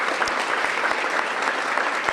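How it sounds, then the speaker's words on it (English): An outdoor groundbreaking crowd claps steadily, dense applause that holds at an even level throughout with no break. "Give him a round of applause."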